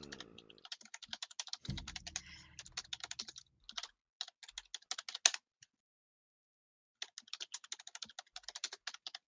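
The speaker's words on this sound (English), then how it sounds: "Sorry if you could hear me typing." Rapid keyboard typing clicks in bursts with short pauses, close and fairly quiet, with a brief low thump partway through.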